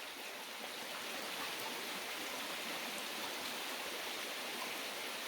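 A shallow forest stream in Banagher Glen Forest Park, Dungiven, County Londonderry, curls around to form a small pool; the water rushes and burbles in a continuous, even wash, heard close and alone.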